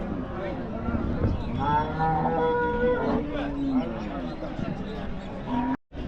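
Cattle low at the Namakkal cattle market, with a couple of drawn-out moos rising over the busy background while people talk nearby.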